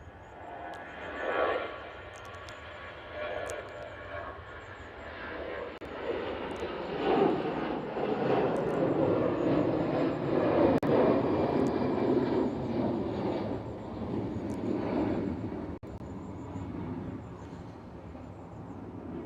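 A small E190 passenger jet departs Manchester Airport, its engine roar building into a sustained broadband rumble that peaks mid-clip and lingers steadily, heard from a moderate distance outdoors with no talking.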